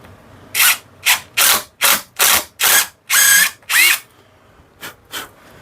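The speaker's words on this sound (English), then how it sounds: "So I'm gonna drill it out" A power drill bores into the epoxy holding a hammer head, running in about ten loud, close bursts of roughly half a second each with short pauses between them. The last two bursts are quieter.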